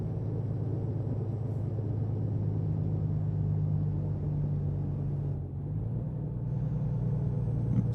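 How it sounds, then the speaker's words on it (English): A heavy truck engine in American Truck Simulator labors uphill, a steady low droning rumble that holds evenly throughout, dipping briefly before resuming its strained hum, with no talking. "Man, my truck is struggling up this hill."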